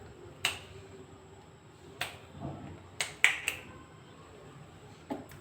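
Six crisp finger snaps crack out in a loose, irregular rhythm, a lone one, then another, a quick cluster of three, and a final snap, close and clear over a quiet kitchen background.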